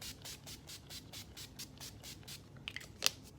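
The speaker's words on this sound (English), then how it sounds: "now I'm going to spray my setting spray again" A quick series of rhythmic spritzes from a setting spray bottle, about a dozen even bursts close by, ending with a couple of small clicks.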